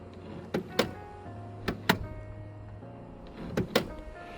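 A worn door check strap on a 2003 Toyota Yaris with a 1.5-litre petrol engine gives sharp, paired clicks and clunks as the door swings, repeating three times at close range over a low hum.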